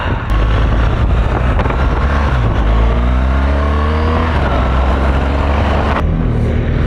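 BMW R 1200 GS motorcycle riding at speed, a continuous loud engine drone with throttle changes shifting the pitch, heavily mixed with wind buffeting on the microphone, no talking.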